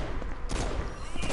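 Rapid gunfire from the Saints Row video game played on a PS4, a dense continuous burst of shots with sharper bursts near the middle and the end, loud and close throughout.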